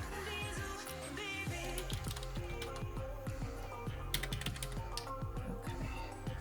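Rapid, steady typing on a computer keyboard with long press-on nails, a dense run of close clicky keystrokes over a low background hum, with no talking.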